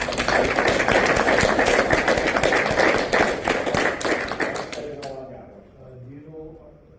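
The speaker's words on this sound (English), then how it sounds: "So I think he deserves a round of applause for that." Applause from an audience at a Masonic lodge meeting, a dense wash of many hands clapping loudly for about five seconds before thinning out and fading, with a voice starting to talk as it dies away.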